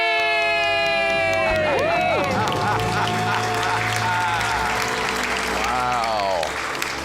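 A studio audience erupts into loud cheering, whoops and applause after a debt-free celebration scream, a sustained burst of crowd noise with shouting voices rising over it before fading near the end.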